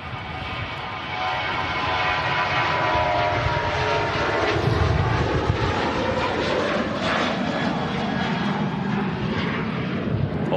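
A TUI airliner departing Manchester Airport, its jet roar rising to a steady, loud rumble that holds for about ten seconds, with a broad wash of engine noise and no voices.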